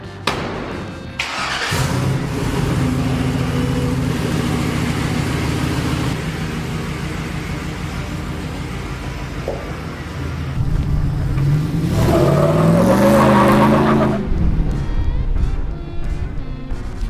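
An International Scout one-ton off-road build swapped with an LQ9 V8 starts up and revs hard, a loud rumbling idle rising into rising, falling surges of throttle near the microphone, with no talking.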